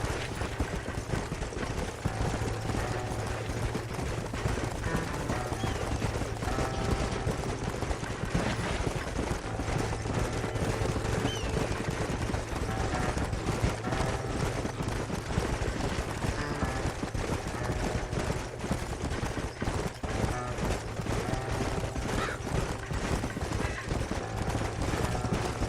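Horses galloping in the video game Red Dead Redemption in West Elizabeth, with dense, rapid hoofbeats drumming continuously under game music and ambience, loud and close throughout.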